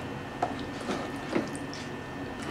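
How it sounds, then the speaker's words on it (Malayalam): Chicken pieces are mixed with masala for Kerala-style chicken dum biryani, giving soft, wet squelches and squishes at irregular intervals, close and fairly quiet. "ഇനി ഇതിലേക്ക് നമുക്ക് ഈ ചിക്കൻ്റെ പീസുകളെല്ലാം ഇട്ട് നമുക്കൊന്ന് നന്നായിട്ടൊന്ന് മിക്സ് ചെയ്യണം."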